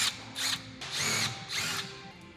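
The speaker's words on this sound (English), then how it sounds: "You're gonna need an 8mm socket, and I'm using an impact." An impact wrench with an 8mm socket zips out transmission pan bolts on a 2015 Ford Expedition, firing in four or five short, close whirring bursts separated by brief pauses, with no voices.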